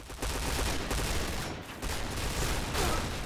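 Continuous automatic rifle fire from an SG 550 in the online shooter Point Blank, dense rapid bursts filling the whole stretch at steady loudness with game effects mixed in.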